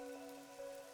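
Steady soft rain patters across surfaces in the rain-soaked video game city of Kanai Ward from Master Detective Archives: RAIN CODE, a faint continuous hiss with a low tonal hum beneath.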